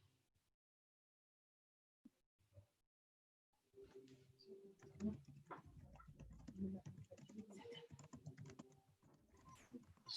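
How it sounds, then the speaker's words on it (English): Someone types on a computer keyboard during an online call. The clicks are quiet and fairly close, tapping in an uneven run that becomes busier after a few seconds of near silence. "Someone is typing."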